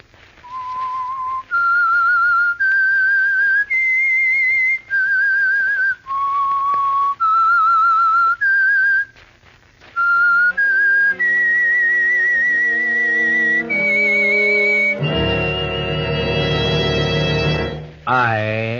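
A slow, haunting whistled melody, the Whistler's theme from the radio mystery show, carries in long pure notes with brief breaks, then swells into a full orchestral chord that rings out for the final seconds.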